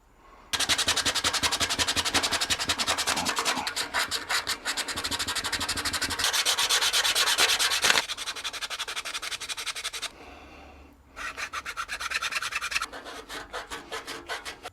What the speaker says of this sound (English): Definitely needs some sanding.